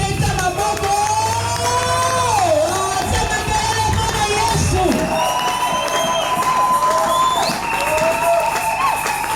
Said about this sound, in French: Est-ce que vous pouvez faire des acclamations?